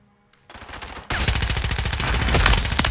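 Rapid submachine gun fire in Modern Warfare 3, starting after a short quiet and a brief sound, then a loud, fast, steady stream of shots that continues to the end.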